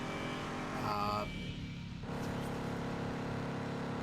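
Reverb car in a video game: a steady, fairly faint engine drone with a brief higher rev swell, then a lower continuous hum.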